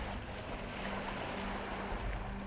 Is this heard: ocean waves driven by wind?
yes